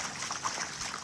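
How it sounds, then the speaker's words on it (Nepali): Irrigation runoff from farm fields flows past in a low, continuous trickling rush, faint and steady with small bubbling splashes and no voices over it. "खेतको पानी हो यो, स्पेसली फेरि खेतको पानी फ्लो भएर यहाँ बगिरहेको अवस्था"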